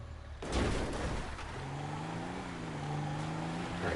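A truck engine in GTA Online starts with a loud burst and settles into a rough, droning run with a rising pitch as it drives, steady and close throughout.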